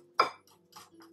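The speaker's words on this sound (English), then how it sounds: "Now we pour the eggs in and then we got a whisk and then we whisk it like this" A metal whisk beats eggs into pancake batter in a bowl, making a sharp clink followed by a few lighter scraping taps against the side, brief and close.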